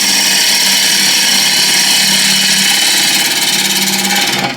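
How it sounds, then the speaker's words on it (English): On a wood lathe, a turning tool rides its bevel at about 45 degrees as it slides along the spinning wood, a loud, steady, unbroken whir and hiss of cutting that continues throughout. "So I have pointing the bevel at 45 degrees roughly, and I just slide it along."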